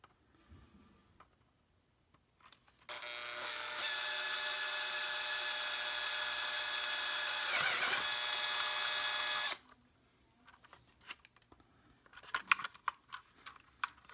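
A power drill with a worn, dull bit whines steadily for several seconds at close range, then stops, followed by light clicks and handling noises.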